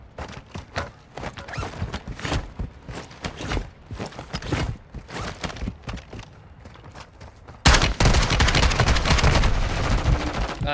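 Video game gunfire including sniper shots: sharp repeated cracks pop irregularly for several seconds, then a loud, dense, sustained volley of rapid fire takes over and continues to the end.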